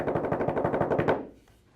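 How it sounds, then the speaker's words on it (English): Rapid, loud knocking on a door, a steady burst of about a dozen evenly spaced raps that stops abruptly, leaving near silence. "my job is to get you as many people knocking on your door"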